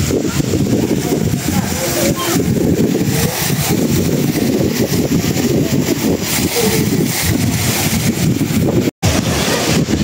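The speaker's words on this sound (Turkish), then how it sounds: "Burada deniz karşımızda. Okyanus." Ocean surf at a resort beach in the Philippines makes a constant, loud roar, with heavy wind buffeting the microphone throughout and no clear voices.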